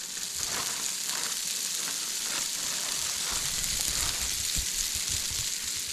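Slices of Texas toast fry on a hot griddle, giving a steady, close sizzle with crackling that runs evenly throughout, no voices over it.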